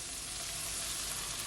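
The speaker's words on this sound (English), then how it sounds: "Now I'm gonna add my coconut milk, and guys, this is at least 4 cups" Sizzle in a pan on low heat as coconut milk goes in for a creamy jerk chicken rasta pasta, a dense continuous hiss throughout without speech.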